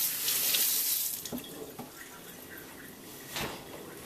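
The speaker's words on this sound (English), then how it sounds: "Wash my hands because I got soda on them." Tap water runs into a sink while hands are rinsed clean of sticky soda in a home kitchen, a steady close splashing with a few brief sharper bursts and splashes.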